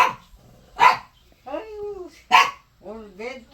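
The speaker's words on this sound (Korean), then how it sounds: "왜 짖어" A dog barks indoors in two sharp, loud bursts about a second and a half apart, each followed by voices of people talking nearby in a home.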